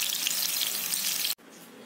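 Capsicum frying in a pan for pumpkin pakoras, a steady dense hiss of sizzling oil with no talk, cutting off abruptly near the end and returning quieter.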